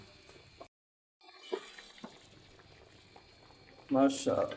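Beef nihari gravy simmers and reduces in a pot with faint, soft bubbling throughout. A voice briefly rises near the end.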